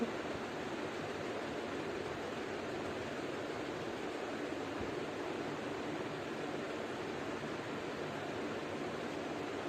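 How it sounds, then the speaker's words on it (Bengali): Papaya, pointed gourd and carrot pieces frying in a pan make a steady, dense sizzle that stays even and close throughout, with no talking. "পেঁপে পটল সমস্ত কিছু ভালোভাবে ভেজে নেব"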